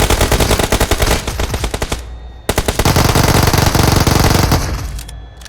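Automatic gunfire in the mobile battle royale game PUBG Mobile, heard as rapid, loud bursts of shots with a brief pause between two long volleys and no voices.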